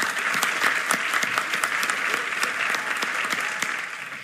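Sustained applause from an audience honoring competition finalists at a 2020 young innovators event, dense steady clapping throughout at an even level with no voices on top.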